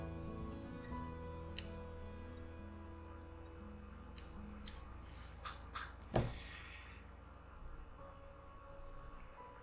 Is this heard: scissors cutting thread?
yes